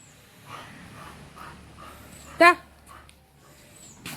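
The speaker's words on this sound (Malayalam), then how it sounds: "കണ്ട ജാക്കി വെളിയിൽ ഡോഗ്സ് ഉണ്ട്, അതിനെ കണ്ടിട്ടാണ് അവ ചാട്ടം ചാടുന്നത്." A dog gives a single sharp yelp or bark in a backyard, with another dog's faint whimpering audible beforehand; indistinct voices murmur softly in the background.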